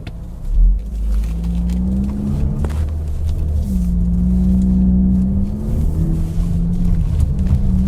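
A GAC Empow car weaves through a slalom on a race track, its engine note rising and falling with each turn in a continuous close, moderately loud drone, with no speech.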